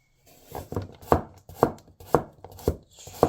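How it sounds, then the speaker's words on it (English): A 240mm JNS Toyama Noborikoi gyuto chops straight down through a thick carrot on a cutting board, giving about seven crisp, close knocks at an even, unhurried pace with no talk. "It does take on this quite thick carrot pretty well"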